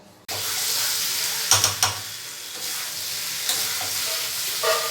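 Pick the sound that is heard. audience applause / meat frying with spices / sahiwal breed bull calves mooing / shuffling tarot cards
meat frying with spices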